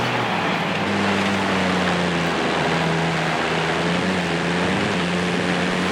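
A diesel engine of a Toyota Land Cruiser AT37 in Forza Horizon 5 runs steadily and loudly, a continuous low drone with slight pitch shifts as revs rise and fall, heard alone.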